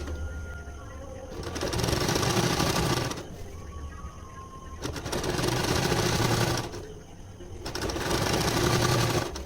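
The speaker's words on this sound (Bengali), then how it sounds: "দেখুন আমি এইভাবে চাপ সেলাই করে নিচ্ছি" A sewing machine runs an overlock (interlock) stitch along the edge of a sari fall, loud and close, in three sustained whirring bursts separated by short pauses.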